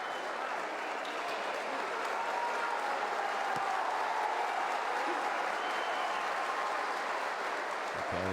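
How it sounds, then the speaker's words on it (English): Home crowd applause and cheering in an arena at a FIBA Basketball World Cup 2019 Americas qualifier, Chile v Virgin Islands, as a player heads to the bench; a steady, dense roar of clapping sustained throughout at moderate distance. "just goes to the bench and gets a standing ovation from the home crowd for his efforts"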